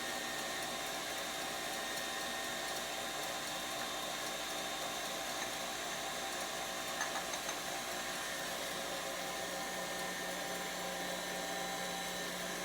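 Electric mixer beating egg whites with sugar toward a glossy meringue, a steady close whirring motor drone held without a break throughout.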